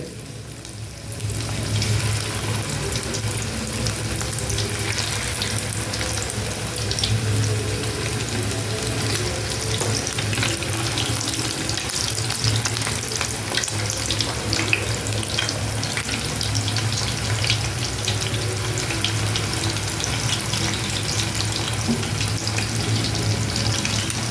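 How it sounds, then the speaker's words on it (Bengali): Chicken fry pieces deep-frying in hot oil, with a loud, continuous close sizzle and crackle holding steady throughout. "আর আমি এখন ফ্রাইগুলো ভেজে নেব এইভাবে একটা একটা করে দিয়ে দেব"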